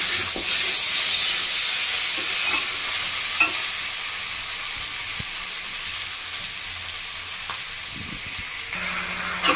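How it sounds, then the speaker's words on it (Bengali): Desi chicken pieces sauté in a pan over medium heat for a Bengali-style kasa, giving a steady, close sizzle and frying hiss with occasional stirring scrapes throughout. "মিডিয়াম থেকে ভালো করে 5 মিনিট মতো কষিয়ে নেব।"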